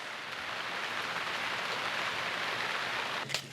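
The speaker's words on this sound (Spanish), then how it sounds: "en este momento la lluvia le va a llevar hacia la quebrada" Rain falls steadily outdoors in the Amazon rainforest, a dense even hiss with no voices, ending with a brief sharp knock.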